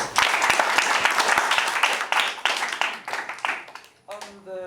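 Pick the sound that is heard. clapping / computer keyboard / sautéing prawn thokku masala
clapping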